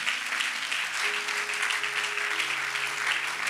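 A church congregation cheers and applauds for Jesus in a dense, continuous wash of clapping that holds steady throughout, with a faint sustained tone underneath.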